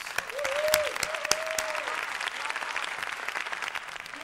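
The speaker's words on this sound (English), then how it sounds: "Give a round of applause." An audience applauds as Amazing Amy, a contortion dancer, is introduced at a live show: continuous crowd clapping with a few sharp, loud claps close by and a brief whistle or whoop early on.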